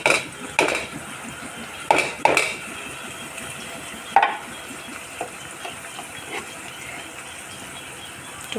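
Tomato and chopped onion cook with spices in a pan while a utensil clanks against the metal a few times, and a low sizzle fills the gaps between them.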